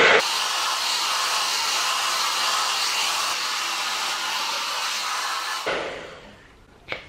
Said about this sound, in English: Now that we're nearly at the end of this drying process, I'm going to start by to shake up my diffuser when it's in my hair.